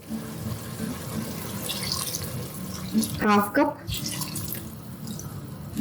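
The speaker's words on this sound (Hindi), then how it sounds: "तो मैं पानी ऐड कर रही हूँ इसमें," Water poured into a cooking pot of whole urad dal on a stovetop, a short splashing pour in the middle under a voice speaking over a steady background hiss.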